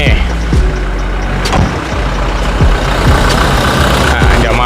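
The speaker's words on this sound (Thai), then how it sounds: "ฟังเสียงเครื่องยนต์กันแบบใกล้ๆนะ" A 2016 Toyota Hilux Revo 2.4 E Smart Cab prerunner pickup with manual transmission idles close up: a loud, steady diesel rumble with a few sharp clicks and knocks along the way.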